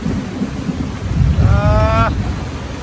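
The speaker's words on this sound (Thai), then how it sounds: "พายุ" Loud thunder rumbles through a rainstorm outdoors, with steady rain hiss and wind buffeting the microphone, and a brief high whine rises partway through.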